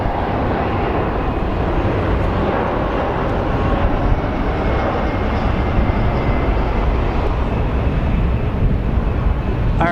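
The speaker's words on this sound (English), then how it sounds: "The next plane that's landing is an A321 coming in from Los Angeles." Airbus A321 landing at Phoenix Sky Harbor International Airport, arriving from Los Angeles: a steady, loud, broadband jet roar sustained throughout with no break.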